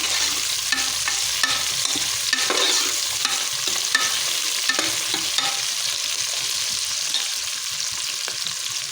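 Vegetables including eggplant sautéing in a pan for a Tamil kara kuzhambu, a steady loud sizzle of frying oil with repeated scraping stirs of a spoon against the pan throughout, no voices.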